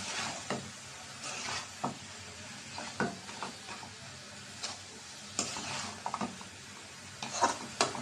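Khesari greens frying in a karai are stirred steadily, with a constant soft sizzle under repeated scraping strokes and light metallic ticks of the spatula against the pan. Everything is close and there is no talking.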